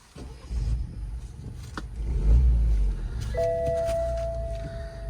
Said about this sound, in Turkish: Benzinden dolayı uyarı verdi.